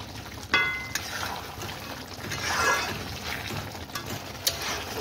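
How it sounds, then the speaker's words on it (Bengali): Mutton frying in its gravy in a pan, giving a continuous bubbling sizzle with a few sharp utensil clinks and scrapes as it is stirred, close and moderately loud. "মাটনটা ভালো করে ভাজা হয়ে গেছে, গ্রেভিটাও সুন্দর এসছে।"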